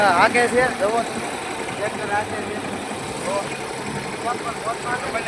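A tractor engine idles steadily nearby, a low continuous rumble running beneath people talking throughout.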